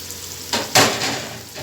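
Chickpeas roasting with tomato in a hot pan for Lahori chana, a steady low sizzle with a couple of louder bursts of frying hiss as the pan is stirred.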